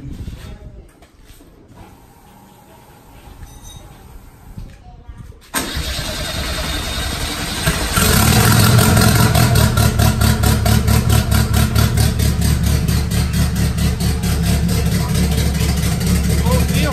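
A Volkswagen Gol cranks and catches around the middle, then settles into a loud, steady idle with a rapid pulsing beat, close by, with voices talking over the quiet stretch before it starts.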